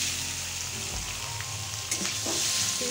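Shrimp fry in a small amount of oil with a steady, close sizzle, joined by a low rumble and a few scraping stirs of a utensil in the pan.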